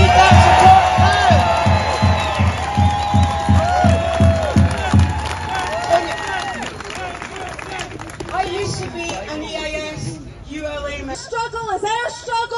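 Striking teachers at a pay rally in Edinburgh clap and cheer loudly, with rhythmic applause at first giving way to whoops and crowd hubbub while a voice speaks over the noise.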